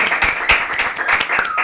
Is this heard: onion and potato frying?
no